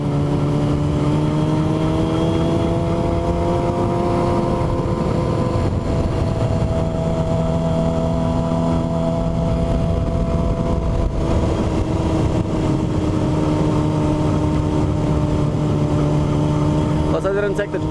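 A motorcycle engine revs and pulls steadily along a country road, a loud, continuous droning hum with slowly shifting pitch that persists throughout, close to the rider.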